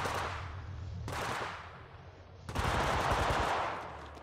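Automatic weapon fire in the mobile battle royale game Apex Legends Mobile, several loud bursts of rapid gunshots close up, the last one longest and densest, with no voices.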